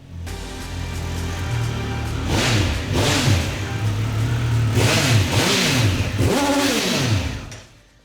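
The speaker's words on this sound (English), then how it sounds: "we've got even more of that triple bark from the 1200 RS" A Triumph Speed Triple 1200 RS triple-cylinder motorcycle engine revs hard several times in succession, each blip rising and falling in pitch over a steady idle, loud and close.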